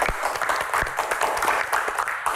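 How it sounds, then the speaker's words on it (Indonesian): A studio audience at an Indonesian talk show bursts into lively applause, loud and dense clapping with distinct individual hand claps standing out, continuing steadily without speech. "Tepuk tangan, luar biasa."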